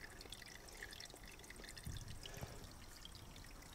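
Spring water pours and trickles into a collection weir feeding a microhydro turbine, a constant faint splashing wash with a couple of louder drips, in a dim enclosed space.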